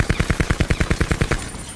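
KN-57 assault rifle fire in Black Ops 4: a rapid full-auto burst of about fourteen evenly spaced, punchy shots, loud and close, ending in a short tail.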